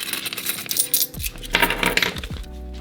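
Coins dumped out for counting cash-stuffing savings, a loose run of clinking, jingling metal pieces tumbling onto a surface up close, with no talk over it.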